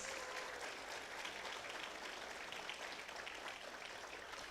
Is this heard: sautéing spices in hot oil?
no